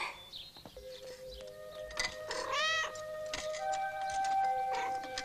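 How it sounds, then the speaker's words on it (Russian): A cat meows several times in short, rising and falling calls, close and moderately loud, over a quiet background with faint rustling and no talk. "А это заколдованный кот."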